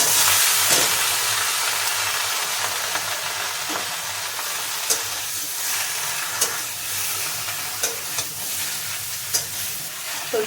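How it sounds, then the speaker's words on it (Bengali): Vegetables fry with onion in a pan, giving a steady close sizzle and hiss broken by occasional sharp clicks of a spatula stirring against the pan, with no talking. "এবার আমি সবজিটা দিয়ে দেবো, দিয়ে ভালো করে একটু ভাজা ভাজা করে নেবো"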